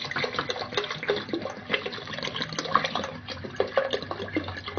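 Water splashes and gurgles as it is poured into a pot of masoor lentils, a continuous, close, bubbling stream with no talking.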